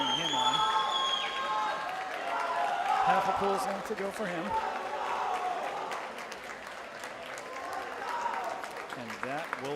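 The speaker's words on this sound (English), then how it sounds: "You can hear the crowd cheering him on." Crowd at a Hockomock swimming championship cheers a swimmer in the boys 400-yard freestyle relay heat, a steady roar of shouts and applause echoing through an indoor pool hall beneath a commentator's voice.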